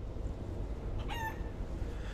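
A rooster-like chicken god from the video game Guacamelee 2 crows once, a brief rising call over a steady loud game soundscape, with no voices.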